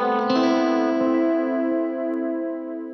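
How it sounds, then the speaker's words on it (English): An electric guitar played through a quarter-note delay effect: a struck chord rings out and decays slowly with faint repeating echoes trailing behind, close and without talk. "Is a true quarter note delay."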